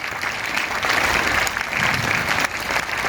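Students clap together loudly and steadily for a few seconds, a dense, continuous round of applause at a school celebration, with no voices rising above it.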